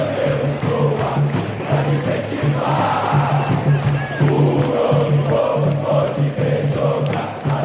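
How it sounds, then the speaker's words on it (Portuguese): Santos football supporters in a packed stadium chant together, a rhythmic mass of voices rising and falling with repeated pulsing beats, loud and continuous throughout. "Com certeza você já ouviu a torcida do Santos entoar esse canto aqui."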